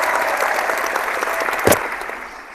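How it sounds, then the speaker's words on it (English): Applause from a crowd after a boxing prediction show, a steady dense clatter of clapping throughout with one brief louder burst near the end. "Round of applause."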